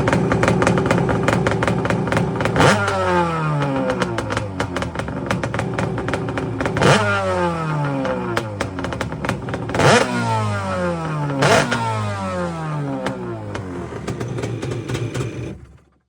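A SuperJet racing jet ski with stock bore pistons revs hard in repeated bursts, the engine climbing and falling in pitch several times, loud and close with no talking.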